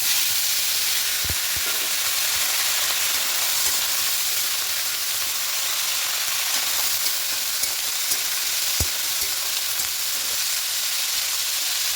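Bottle gourd hits hot oil in a pan with green chillies, a steady broadband sizzle and frying hiss filling the whole stretch, with a couple of sharp utensil knocks and stirring scrapes near the mic.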